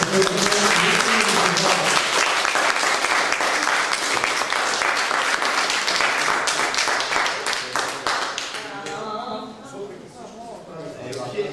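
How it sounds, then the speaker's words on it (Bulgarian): A crowd at a school event gives strong applause for a ninth-grade team, with dense, loud, sustained clapping mixed with voices that fades toward the end as talking takes over. "Силни аплодисменти за това."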